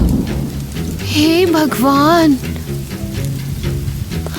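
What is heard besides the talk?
rain and thunder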